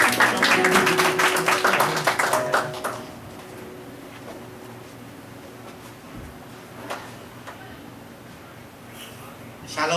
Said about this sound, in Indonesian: mari kita berikan tepuk tangan kasih kepada Sitomorang